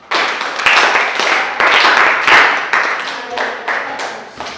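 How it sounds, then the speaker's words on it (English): Elementary school students clap their hands for themselves during a science lesson in a classroom, in several uneven bursts of close, sharp clapping with short pauses between them and voices mixed in. "clap hands for yourselves."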